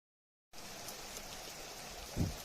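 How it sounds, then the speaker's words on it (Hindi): Heavy rain falling steadily in a hill village, a constant broadband patter starting after a brief silence, with a low thud near the end. "यहाँ पे ढेर सारी बारिश स्टार्ट हो गई है"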